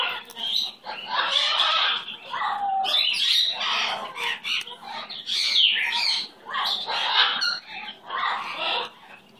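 A pet bird chirps and squawks in bursts of shrill, rasping calls with short pauses between, close by and fairly loud, alone without talk.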